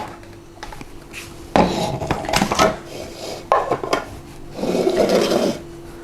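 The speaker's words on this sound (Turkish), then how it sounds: "beyazlarını 50 gram pudra şekeriyle birleştirerek robotta çırpıyoruz" A food processor whisks egg whites with powdered sugar for a chocolate soufflé, giving clattering, rasping bursts of machine whirring that come and go at close range, with no talk over it.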